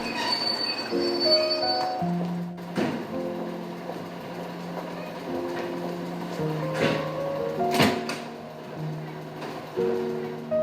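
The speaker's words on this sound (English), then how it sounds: "Here we see a diesel multiple unit arriving from Bristol" A 1975 diesel multiple unit train pulls in with long, tonal squeals and groans from its wheels, punctuated by occasional clanks, heard steadily throughout.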